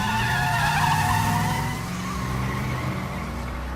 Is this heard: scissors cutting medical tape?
no